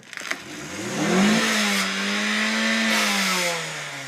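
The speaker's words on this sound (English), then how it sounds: "When you hear the engine going," A car engine revs up and holds a rising, strained drone for a few seconds before easing off, fairly close and steady.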